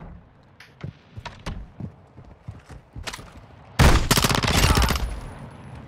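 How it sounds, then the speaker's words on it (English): Scattered thuds and sparse shots, then a loud, dense burst of rapid automatic gunfire in Call of Duty: Modern Warfare II on the Al Mazrah map, close and dominating the final couple of seconds. "You are taking effective fire."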